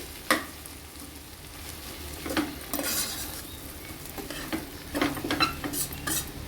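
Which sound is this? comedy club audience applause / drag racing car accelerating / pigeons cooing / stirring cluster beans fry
stirring cluster beans fry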